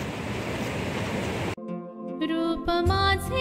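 Released floodwater roars through the gates of the overflowing Tilari dam in Dodamarg during heavy monsoon rain, a loud, steady rushing torrent that cuts off abruptly into music.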